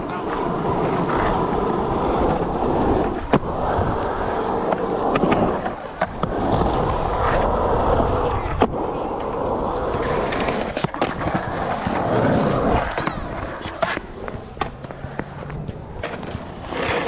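Skateboard wheels roll steadily over concrete at a skate session, with sharp pops and board clacks from ollie attempts and landings scattered through, wind noise and distant voices in the background.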